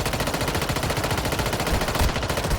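Rapid automatic gunfire from a Warzone Mobile match, dense bursts of shots rattling continuously and loudly with no talk over them.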